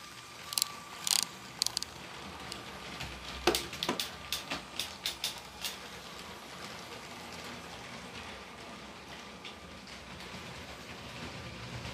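Small Lego toy trains clatter along plastic track with a steady mechanical whir, punctuated by a few sharp clicks and rattles early on.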